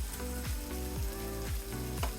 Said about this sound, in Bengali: এবার আমি দেড় কাপের মতো ঝোল দিয়ে দেব